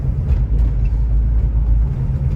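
A Ford Mustang Mach 1 idles close by, a steady deep low rumble that holds level throughout with no revving and no voices.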